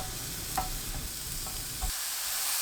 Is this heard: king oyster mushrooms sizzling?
yes